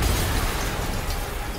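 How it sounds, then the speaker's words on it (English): A loud, rumbling explosion in the Spider-Man Remastered video game fills the whole moment, a dense broadband roar with heavy low-end that stays steady and close without a distinct single bang. "Yuri, an explosion just... I saw it."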